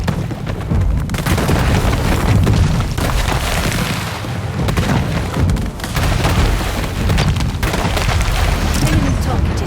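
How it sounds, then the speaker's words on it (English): A ship blows up in the Anno 1800 strategy game: a sustained, loud rumbling boom with dense low-end roar and crackling debris that swells and subsides over several seconds. "A ship is destroyed."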